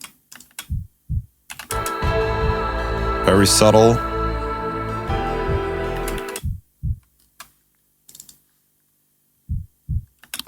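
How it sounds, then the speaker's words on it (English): An unprocessed heartbeat sample sound effect: soft, low double thumps open and close the passage, around a sustained humming, tonal stretch in the middle. A voice briefly speaks near the end. "Here is a little heartbeat sample."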